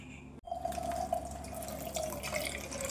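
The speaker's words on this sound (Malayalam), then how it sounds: "ഇനി ഞാനിത് അരിച്ചുകൊണ്ട് വരട്ടെ." Noni juice, blended with water, is strained through a sieve. A single soft knock is followed by a steady thin trickle and light dripping, quiet and close, with no voices.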